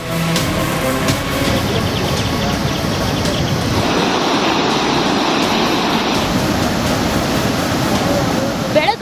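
Loud, continuous rushing floodwater roars throughout near the Bhima River in North Karnataka during heavy rains, a dense broadband wash that swells slightly midway, heard up close with no voices.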